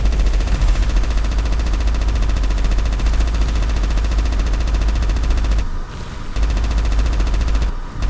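Sustained gunfire in the video game GTA V, rapid and loud, running almost continuously with two short breaks and no talk over it.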